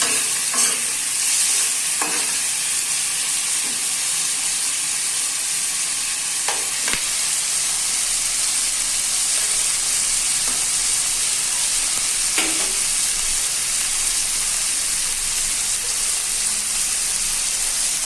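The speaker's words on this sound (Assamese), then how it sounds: "পিঁয়াজ আৰু বিলাহীখিনি এক্সট্ৰাকৈ অকণমান ভাজি লওঁ" Continuous sizzle of onions and tomatoes frying in a pan for chicken curry, with occasional scraping and stirring knocks, close and steady throughout.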